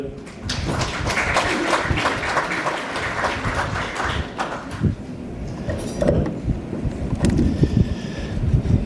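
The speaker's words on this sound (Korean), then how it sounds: "박수 맞아주십시오" An audience claps steadily through the whole stretch to welcome a speaker at the opening of a world Korean journalists' conference, sustained applause with some background rustle and no talk.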